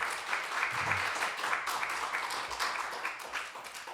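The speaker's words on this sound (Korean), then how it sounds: "우리 자리에서 일어나면 박수로 우리 환영하죠." A church congregation claps warmly to welcome a soldier home on leave, a steady, dense round of applause filling the room for several seconds with a faint voice underneath.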